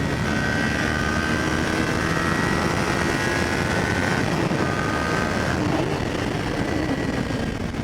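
A Kawasaki Ninja 400 motorcycle ridden at speed, its engine droning steadily with a thin whine under loud, constant wind rush, a near and sustained roar that holds level throughout.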